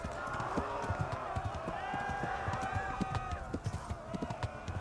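Horse galloping in the video game Kingdom Come: Deliverance, a steady run of hoofbeat thuds under layered music and effects while mounted archers give chase.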